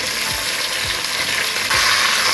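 Finely chopped tomatoes tipped into a hot tempering in a pan for tomato rice, giving a loud, steady close sizzle and frying hiss throughout, with a few faint stirring knocks.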